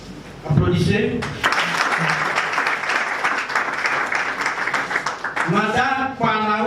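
Crowd applause at a Congolese political party meeting, a thick sustained burst of clapping that rises after a short spoken announcement and runs for several seconds before voices return over its tail.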